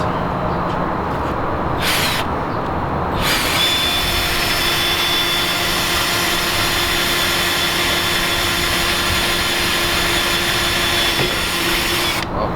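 A power drill whirs steadily and loudly, stopping briefly a couple of times near the start, then running continuously for a long stretch, drilling a car body to install a wickerbill spoiler.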